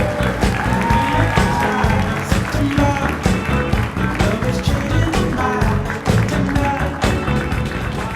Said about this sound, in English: Please put your hands together for Mr. Lester Berry.